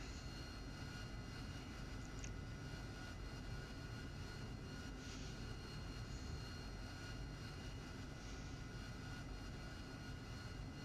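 An AV-8B Harrier taxiing to a refueling area in the DCS World flight simulator, its jet engine a steady, loud, broadband roar that holds constant throughout with no speech over it.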